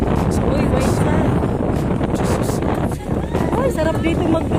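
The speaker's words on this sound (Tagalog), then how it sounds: "ang sarap ng hangin" Strong wind roars and buffets the microphone without a break on a boat sailing through Keppel Bay in Singapore. Water and engine rumble sit underneath, and voices are faintly present.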